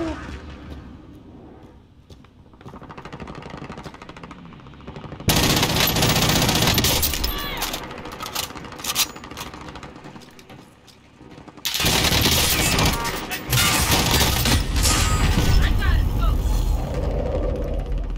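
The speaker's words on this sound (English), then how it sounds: "somebody shooting at me" Call of Duty Warzone gunfire in a Plunder match: after quieter stretches with a voice talking, loud bursts of rapid automatic fire erupt and sustain for several seconds, break briefly, then return in another long, intense volley.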